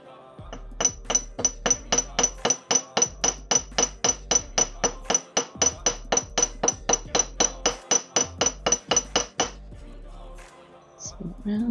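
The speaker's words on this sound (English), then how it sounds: "so that I can edit out the loud hammering for you folks" Dozens of sharp metallic hammer strikes flatten wire for a wire-wrapped pendant, a fast even run of close, loud ringing taps that stops abruptly, followed by a faint handling clink.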